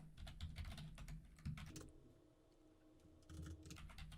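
Computer keyboard keys clatter in quick, uneven bursts as someone types C++ code, close and fairly quiet, pausing briefly midway before the typing resumes, with no voices.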